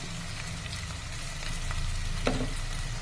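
Ginger garlic paste fries lightly in a pan with softened onion, a close steady sizzle that swells slightly midway, with a few light stirring taps and one sharper utensil knock near the end.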